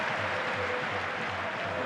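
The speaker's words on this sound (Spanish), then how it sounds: "Se gana la ovación de la Romareda." A stadium crowd at La Romareda gives an ovation during a Real Zaragoza vs Real Sociedad league football match: a steady, dense, far-off roar of applause and cheering with no break.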